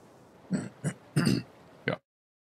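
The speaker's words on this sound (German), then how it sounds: "Räuspern müsste auch noch sein." A person clears their throat in several short, close rasping bursts, four in about two seconds, then silence, while playing a story video game at home.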